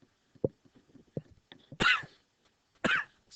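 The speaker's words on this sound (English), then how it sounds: "Smoker's cough." A man teaching a trigonometry class coughs twice, harsh and loud, about a second apart, after a few soft sounds from his throat and breath, in an otherwise quiet room.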